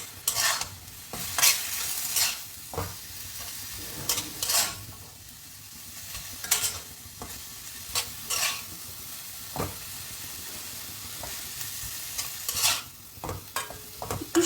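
Chopped onions, about three, frying in a pan for a creamy chicken tart: a steady hiss of frying broken by frequent loud scraping stirs of a spatula, close up with no talking.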